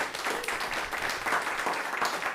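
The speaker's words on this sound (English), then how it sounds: "can we give a big round of applause to Skin&Blisters?" Applause for the performers Skin&Blisters at a home discussion and demo event, a steady wash of clapping from a small crowd lasting the whole stretch without talk.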